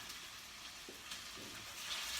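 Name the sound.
arborio rice frying in hot bacon for paella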